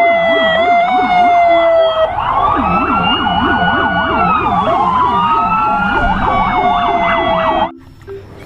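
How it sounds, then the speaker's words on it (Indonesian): A toy police car blares a loud electronic siren in close, fast wailing sweeps that shift pattern partway through and cut off abruptly near the end. "Wow, mobil polisi."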